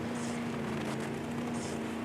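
Steady droning engine of a 4x4 off-road vehicle in the Baja racing video game, a constant low hum with no pauses.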